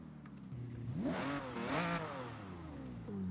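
A car engine with factory exhaust in Forza Horizon revs up twice, its pitch climbing and falling in a smooth sweep, with a steady idle rumble before and after.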